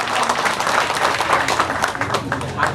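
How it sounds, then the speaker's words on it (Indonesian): An audience at a Kenduri Cinta Islamic lecture gathering applauds a woman named Ega and her fiancé. The clapping is steady and dense for a few seconds, with faint voices mixed into the crowd noise. "Tepuk tangan untuk Ega dan calon suaminya."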